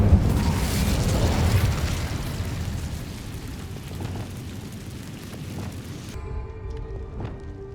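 An Incendio fire spell in Hogwarts Legacy erupts in a loud, rumbling fiery blast that swells at the start and trails off into crackling burn, then cuts to quieter game ambience near the end.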